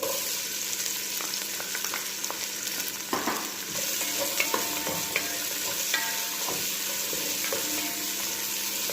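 White onion and garlic fry together in a pan for pinapaitang manok, a steady close sizzle with scattered clicks and scrapes of stirring throughout.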